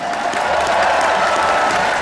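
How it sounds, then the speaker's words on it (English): An audience at a rally or public gathering applauds with dense, continuous, loud clapping mixed with some crowd noise. "Big round of applause."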